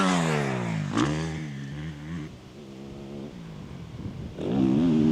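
Motocross dirt bike engine revving on a jump track, rising and falling whining revs at mid distance, dropping off then surging back loud near the end.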